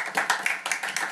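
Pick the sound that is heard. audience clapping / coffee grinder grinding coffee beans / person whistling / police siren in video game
audience clapping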